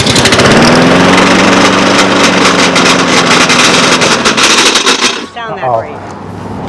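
A small lawn mower engine pulled into life with a recoil cord roars loudly and steadily at close range, then sputters and dies down near the end as it cuts out.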